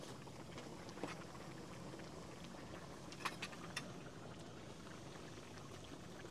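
A pot of inubarang manok, chicken stewed in broth, simmers outdoors, giving a quiet, steady bubbling hiss with a few small pops and clicks, with no voices.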